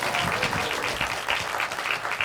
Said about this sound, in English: We can all clap for